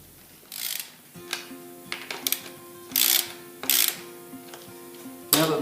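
A wrench or socket tightens the bolts on a Philmac rural tapping saddle, giving close, sharp ratcheting clicks in short uneven bursts with quiet gaps between them.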